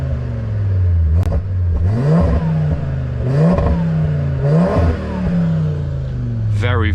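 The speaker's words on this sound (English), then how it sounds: "Absolutely love that 5-cylinder" An Audi RS3 five-cylinder engine, in dynamic mode with its exhaust valves open, revs up repeatedly in loud close rising sweeps, with turbo whistle and crackles between the pulls. A voice is heard partway through.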